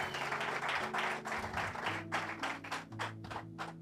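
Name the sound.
congregation applause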